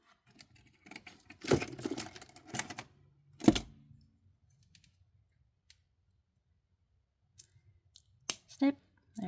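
Cutters snipping through bracelet wire during jewelry making, a few sharp close clicks and squeezes, with one hard snap in the middle and more clicks near the end.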